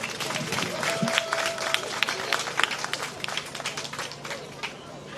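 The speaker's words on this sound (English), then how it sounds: "A round of applause." A crowd at a live community event applauds, scattered clapping mixed with cheers and chatter in a busy, reverberant room, with voices talking throughout.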